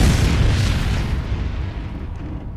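Landmine blast in the VR shooter Breachers, a loud booming explosion with a dense low rumble that fills the whole stretch and slowly fades, with no voices.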